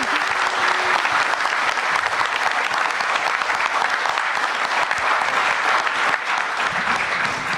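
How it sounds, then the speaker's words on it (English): An audience at a Granite Con 2024 convention panel applauds, a dense, loud and sustained wash of clapping from a large crowd that holds steady for several seconds. "Let's give these guys a round of applause."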